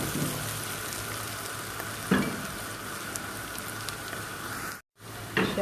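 Onion, garlic and ginger fry in butter with a steady close sizzle, broken by a couple of stirring clatters and a brief gap near the end.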